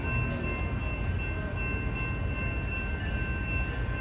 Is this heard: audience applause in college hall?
no